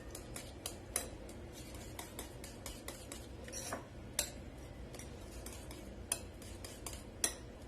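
Eggs with broccoli are beaten in a bowl, a steady run of quick, light utensil clicks and taps against the dish, close and fairly quiet, with no voices.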